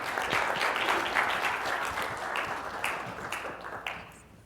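An audience applauds as a speaker is welcomed onto the stage at a corporate data and analytics talk, dense clapping from many hands that swells and then thins out toward the end.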